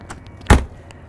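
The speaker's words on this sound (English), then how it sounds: "So these doors are so much easier to close." A door on a 2022 Newmar New Aire 3543 motorhome shuts with one sharp, close thud, preceded by a few faint taps and followed by quiet.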